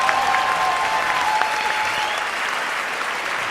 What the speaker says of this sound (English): they deserve a big round of applause also